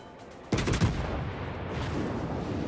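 A naval gun fires in World of Warships, a single loud, close blast that rolls into a sustained low rumble of battle ambience.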